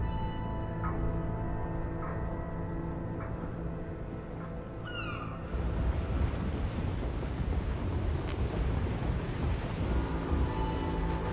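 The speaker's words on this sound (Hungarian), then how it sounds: "Folyik be a víz." Water rushing into a ship in the Little Nightmares video game, a steady broadband wash like surf that swells louder midway, with faint creaks and tones over it and no talk.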